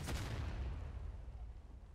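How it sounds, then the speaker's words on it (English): A deep, booming Civil War cannon blast in the video game War of Rights, with a sharp attack that rolls off into a long low rumble, heavy and close. "Scatter and let the cannon fire."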